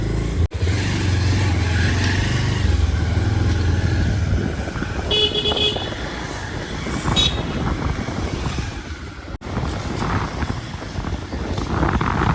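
A Rapido bike taxi ride in city traffic: steady engine and road noise throughout, with several car horn toots and passing vehicles nearby.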